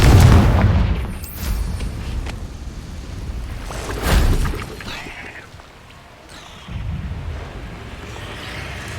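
A Confringo blast spell goes off in Hogwarts Legacy with a loud, deep booming explosion at the start, followed by rumbling bursts and swelling magical whooshes; a voice calls out over it.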